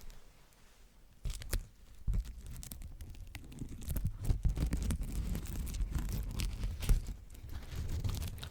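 Close, dry crinkling and papery tearing of a Korean seaweed snack, with scattered sharp crackles and rustles that build into a busy, continuous crunching texture.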